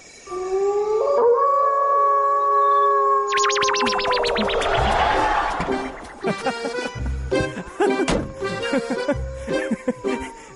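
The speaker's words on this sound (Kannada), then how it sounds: "ಕಾಡಲ್ಲಿ ಯಾವ್ದೋ ಪ್ರಾಣಿ ಕಿರ್ಚ್ಕೊಂಡಿರೋದಕ್ಕೆ ಹೆದರ್ಕೊಂಡು" Dogs howl in a forest at night, several long rising and falling wails overlapping near and loud, then giving way to shorter yelps and whimpers with a strong echoing effect.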